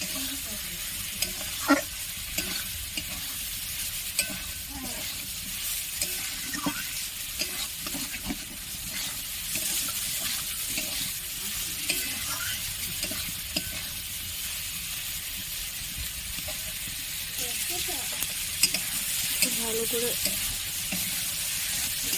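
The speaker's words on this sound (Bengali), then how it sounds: "সেই সয়াবিনটা আমি দিয়ে দিলাম ভালো করে এভাবে কষিয়ে নেব" Soaked soybean chunks stir-fried in a pan, an even crackling sizzle that runs throughout with scattered spatula scrapes and taps, close and moderately loud, no speech.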